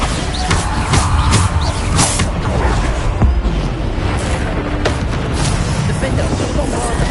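Bombarda spell blasts in the Hogwarts Legacy game, loud booming explosions with crashing debris repeating through a dense, continuous battle din.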